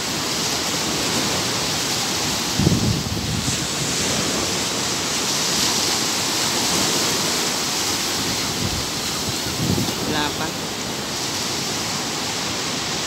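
Ocean surf rolls steadily at a Zambales surfing spot, a continuous broadband wash of breaking waves with a few heavier crashes standing out, heard alone without voices.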